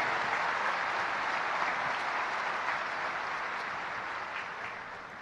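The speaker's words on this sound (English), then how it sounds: "how about another round of applause for the class of 72 and their outstanding dedication to the class" Large crowd applauding at a United States Military Academy graduation ceremony for the class of 2022, a dense, steady roar of clapping that holds throughout and tapers slightly toward the end.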